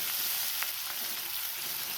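Onion frying in a pan for upma, a soft, steady sizzle with a couple of faint ticks and no one talking.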